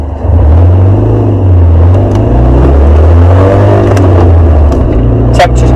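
A Ford Fiesta Zetec-S with a 1.6 engine drones steadily while driving, a loud continuous low hum with slight pitch rises under cabin noise, and someone talks over it.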